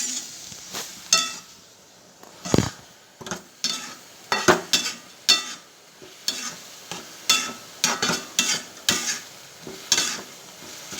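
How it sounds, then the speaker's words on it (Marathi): Dal cooking in a pan with garlic sizzles softly while a spoon stirs and scrapes against the metal in repeated close, sharp strokes at a steady rhythm, with no talking. "डाळ शिजू द्यायची."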